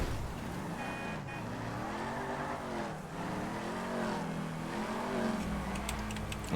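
WRX car engine in GTA V FiveM, a revving motor with rising and falling engine tones, close and fairly loud, with a brief tire-squeal-like burst near the end.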